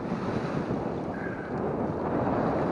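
Steady wind roaring over a sailboat on Lake Erie in a 12 to 13 mph breeze, a loud, constant broadband rush with microphone buffeting and water wash, no voices.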